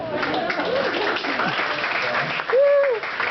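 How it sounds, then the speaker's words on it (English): Audience applause at a stand-up comedy show at Helium comedy club, a dense steady clatter of clapping throughout with cheering and a whistle near the end, spoken voices mixed in. "Clap it up for that."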